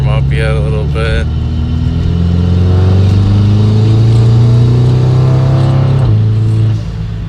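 A Volkswagen GTI running a new ECU and TCU tune revs loudly close by, the engine note climbing smoothly in pitch, holding high, then dropping back near the end, with a few brief clicks at the start.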